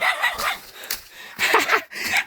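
A dog barks several times outdoors among tall bamboo, in loud, close, sharp barks coming in irregular bursts with short gaps between them.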